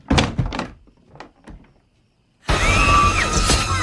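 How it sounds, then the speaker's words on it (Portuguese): Closet door opening in a Halloween horror film scene: several hollow wooden knocks and thumps, then a loud, sustained burst of dramatic film sound as the door swings open. "Quando ela abre a porta, o Michael tá lá"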